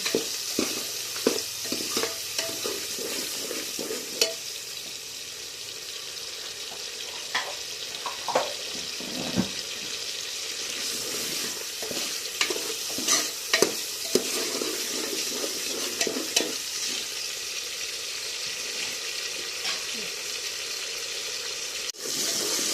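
Curry leaves sizzle and crackle in hot oil for tempering a dal, a steady close frying hiss broken by sharp pops and spatters, with occasional stirring scrapes over about twenty seconds.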